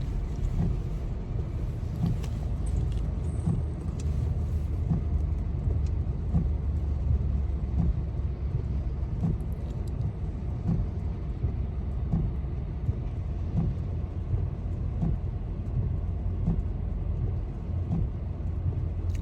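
Cars stuck in a rainy-day traffic jam produce a steady low rumble of idling engines and road noise, with faint passing swells, heard from a distance without speech.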